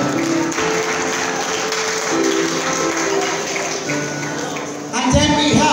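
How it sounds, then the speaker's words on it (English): Audience clapping at a graduation prize-giving ceremony, a steady wash of applause filling the room throughout and swelling slightly louder near the end, with voices murmuring under it. "Let us appreciate them by way of clapping."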